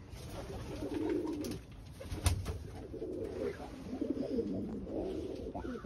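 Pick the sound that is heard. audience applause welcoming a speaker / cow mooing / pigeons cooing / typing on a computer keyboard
pigeons cooing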